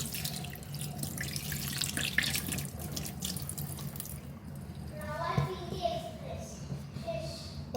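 Tap water runs steadily into a sink while fish is washed, with a continuous splashing flow; partway through the water noise shifts and light dripping and clatter appear, and faint children's voices are heard in the background.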